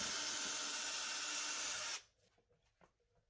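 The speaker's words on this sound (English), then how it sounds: "mark the holes for my new handles and drill those" A power drill whines steadily for about two seconds, drilling a handle hole in a wooden nightstand drawer, then stops abruptly, leaving faint scattered clicks and handling noises.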